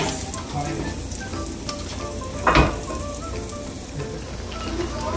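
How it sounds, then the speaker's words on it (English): Two sliced medium onions hit half a cup of hot oil in a karhai, giving a steady crackling sizzle with a sharp burst partway through, close and continuous. "I have half cup of oil in the karhai, and I'm going to add about 2 medium-sized onions cut into slices"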